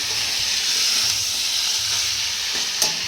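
Peas are sautéed in a pan of oil at home, a close, steady sizzle and hiss with a brief clatter of the stirring spoon near the end.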